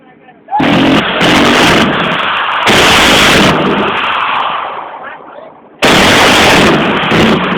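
Gunfire at a Thai firing range where a gun engages targets on a right-to-left flight path: loud, sustained bursts of shots in three long blocks with brief gaps, close and harsh, with talk nearby.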